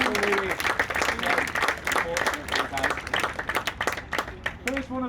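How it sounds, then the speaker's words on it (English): A school audience at a Year 6 leavers assembly claps for an award winner; continuous dense clapping fills the stretch, with voices of children and adults heard talking and calling out over it. "Give him a clap anyway."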